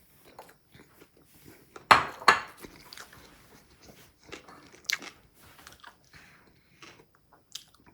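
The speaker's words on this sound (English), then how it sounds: "let's take a bite and see how it looks" Someone bites into a shredded BBQ chicken and coleslaw sandwich with pickles, giving a couple of sharp close crunches followed by soft, faint chewing and small mouth sounds, with no talk.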